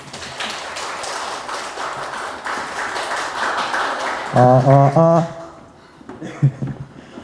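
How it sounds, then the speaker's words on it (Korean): Audience at a middle-school admissions briefing at a Korean academy claps to welcome the next presenter, a steady patter of applause, with a brief tonal chime and a voice near the end. "박수로 좀 환영해 주시죠"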